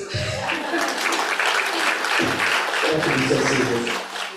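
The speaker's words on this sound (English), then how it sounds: "Yes, round of applause." Audience applause at a Hindu purohit ordainment ceremony, steady and fairly close, filling the clip, with low voices or murmurs breaking through at intervals.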